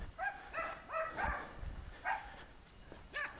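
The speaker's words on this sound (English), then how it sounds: "Oh, these fucking dogs." Several dogs bark and yip in short irregular bursts at a moderate distance over a low background rumble, with no talking.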